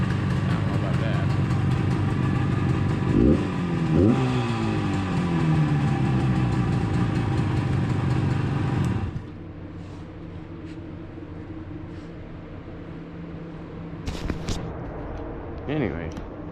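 Yamaha YDS7 250 two-stroke twin motorcycle engine running close by, loud and steady with a couple of quick revs, then settling into a quieter idle while a person talks over it.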